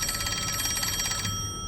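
An old-style telephone bell rings with a rapid rattling trill inside the mystery game Master Detective Archives: Rain Code, one burst lasting just over a second before stopping, with no voices.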